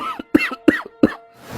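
A man coughs in a tight burst of four rough, voiced coughs, close and fairly loud, followed by a short breath.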